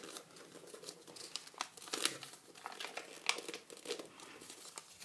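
Paper crinkles and rustles up close while the wings of an origami crane are folded down, with soft irregular crackles and a few sharper crisp snaps.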